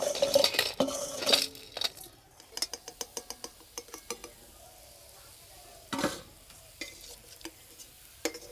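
Crispy little fried tea biscuits are tipped onto a plate. A burst of hard clattering is followed by a run of light clicks and taps, then scattered rattles, fairly quiet with no talking.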